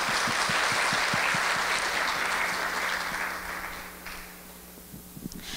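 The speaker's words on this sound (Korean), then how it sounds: "큰 박수 부탁드립니다." Audience applause at the opening of the 2019 Yeosu startup ecosystem conference, a dense sustained clapping wash that gradually thins and fades toward the end, with a few individual claps lingering.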